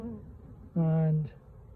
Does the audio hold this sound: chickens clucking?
no